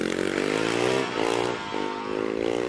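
A racing motorcycle screams past at speed on a hillclimb course, its high-revving engine loud and close with a rasping harmonic whine that dips briefly during gear changes before pulling hard again.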